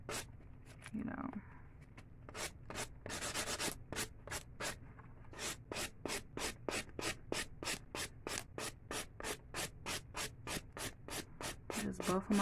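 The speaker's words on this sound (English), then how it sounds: "then you could take like your buffer and then just go over the nails" Acrylic nails are worked over with a nail buffer in short, steady back-and-forth strokes, giving a rhythmic dry rasp that repeats close up at a quiet level.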